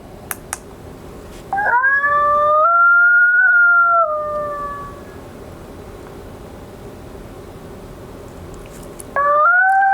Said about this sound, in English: let's listen to Invite 1, a coyote invitational howl.